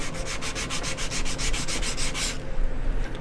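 Steady back-and-forth sanding on a glass construct during a build, rhythmic rasping strokes close up and fairly loud, stopping abruptly near the end.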